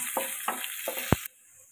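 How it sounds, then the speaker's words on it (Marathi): Chopped garlic and ginger hit hot oil in a pan with a loud, close, steady sizzling hiss and a few stirring scrapes, then the sound cuts off abruptly. "तेल चांगलं गरम झालंय तर आता इथे मी चॉप केलेला लसूण टाकलाय."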